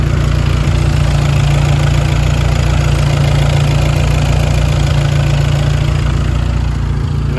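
A car with an EA288 engine, a Rawtech exhaust and stock muffler, and a Malone tune idles steadily up close, giving a loud, even, low-pitched burble throughout with no talking.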